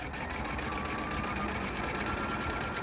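A sewing machine stitches double piping with cording, running as a steady, continuous whir at close range with no pauses and no voices.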